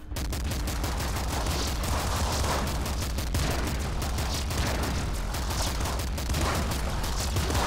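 Bouncer SMG fire in Nuclear Throne pours out as a dense, continuous stream of rapid shots and impacts, loud and unbroken throughout with no pauses.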